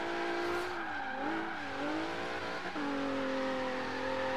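An Infiniti G37 engine in Horizon 3 revs and wavers as the wheels spin, its whine rising and dipping with faint tire squeal.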